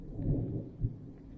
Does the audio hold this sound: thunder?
yes